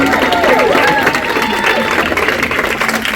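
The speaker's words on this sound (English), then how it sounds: "Can you give him a round of applause?" An audience at a South African youth leadership summit's welcome address breaks into loud, sustained applause, with dense clapping and some crowd cheering filling the room throughout.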